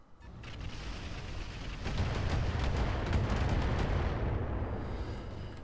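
Missiles launch repeatedly from a mech in the Roguetech mod of the BattleTech video game, a dense rumbling barrage of whooshing launches and booms that swells after the first two seconds and stays loud.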